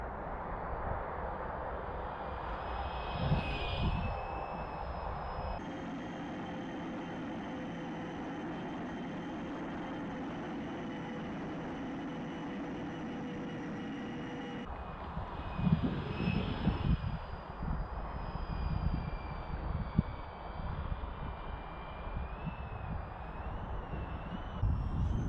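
A Hee Wing T1 Ranger RC plane flies overhead, its small electric motor giving a steady, faint drone that shifts in pitch as throttle changes.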